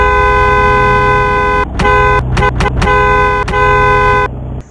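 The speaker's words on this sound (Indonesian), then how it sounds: "Dan suara klaksonnya" Car horn honking in a racing video game, a steady rich-toned blare held for over a second, then several short toots in quick succession and a final long press, loud and close with no talk.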